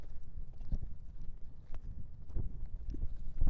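A horse lopes around an arena, its hooves beating in a steady three-beat rhythm on soft ground, moderately close.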